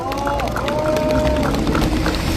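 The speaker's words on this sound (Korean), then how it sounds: "동지들에게 한 번 더 힘찬 박수를 보내주십시오." Applause and crowd noise fill a labor rally at a general strike workers' gathering, a dense burst of clapping with a loudspeaker voice echoing over it.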